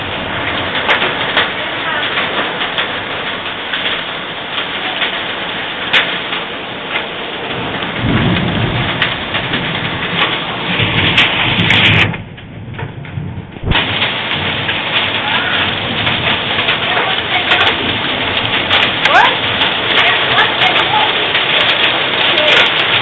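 A 2013 hail storm in South Florida pounds down as a loud, dense, continuous roar of ice and rain hitting surfaces, with a brief lull partway through and people talking faintly.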